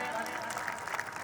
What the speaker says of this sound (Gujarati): એકવાર પ્રતાપગઢના બધા યુવાનો માટે જોરદાર તાળીનો ગડગડાટ